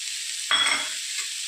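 Cashews, coconut, garlic and sesame seeds hit a hot pan with a sudden burst of sizzle that settles into a steady hiss, close by and brief.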